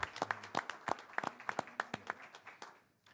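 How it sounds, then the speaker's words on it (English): A small audience at a Park Forest community award ceremony claps for two Good Egg Award recipients, a few seconds of sparse, distinct handclaps that thin out and stop. "we can give both of our awardees another round of applause"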